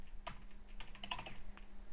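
Keystrokes on a computer keyboard while typing Python commands, a quick scattered run of light clicks with one sharper tap, close and clear over a low steady hum, with no voices.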